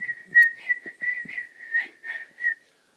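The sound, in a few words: person whistling imitation of swamp sparrow song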